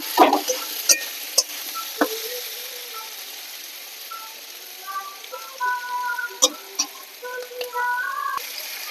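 Spiced fish head curry, made with flattened rice, is stir-fried in a pan: a steady close sizzle runs throughout, broken by scattered sharp clinks and scrapes of a spatula against the pan, with no talking.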